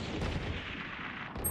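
Gunfire from a tactical shooter video game rattles in a sustained burst of loud, dense shots fired through walls, ending with a sharp final hit.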